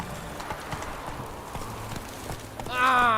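A horse gallops in the Witcher 3 video game, with quick, regular hoofbeats close up and a short voiced cry breaking in at the very end.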